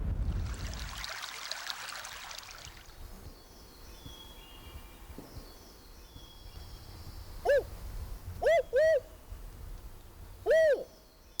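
A spotted owl gives four clear hoots in a short uneven series, the last set apart, sounding fairly near over the soft rush of a stream, after a brief noisy burst at the start.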